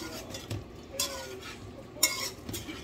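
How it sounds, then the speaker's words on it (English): Bora curry being stirred in a pot on the stove: a faint, scraping stir with a few brief metallic clinks of the utensil against the pot at irregular intervals, close by. "And I'm gonna give it a stir."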